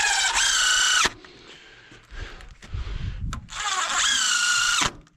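Power drill driving small screws into lintel formwork, two loud whirring bursts of about a second each at the start and end, with quieter clattering handling noise between them.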